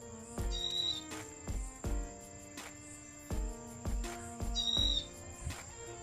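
A sparrow gives repeated sharp chirps, clear and fairly close, over a steady background with a few knocking sounds.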